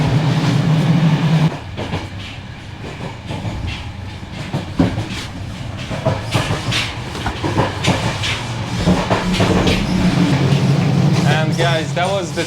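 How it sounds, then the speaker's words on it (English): A passenger train running from Sofia, Bulgaria to Bucharest, Romania rumbles steadily inside the wagon, with low rolling noise, clicks and knocks from the track, and occasional hisses. Voices and other sounds in the carriage are heard over the ride noise. "that was the train from Sofia, Bulgaria to Bucharest, Romania"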